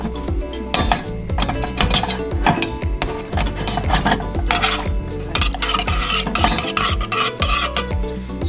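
A spoon stirs and chops butter in a metal pan while making béarnaise sauce, with repeated scraping, clinking strokes against the pan in an irregular rhythm, close and fairly loud, with faint sizzling beneath.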